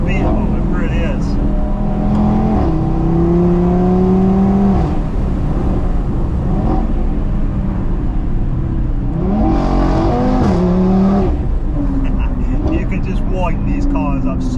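A 540 bhp Audi TT RS five-cylinder with an APR Stage 2 tune driven hard, its engine note rising and falling through gear changes inside the cabin, loud and continuous, with people talking over it.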